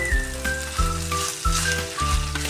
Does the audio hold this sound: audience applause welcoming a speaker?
no